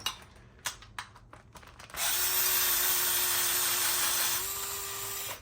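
A power drill whirs steadily for several seconds, unscrewing bolts from a Razor MX electric scooter, with its pitch stepping up slightly near the end. A few sharp tool clicks and knocks come before it starts.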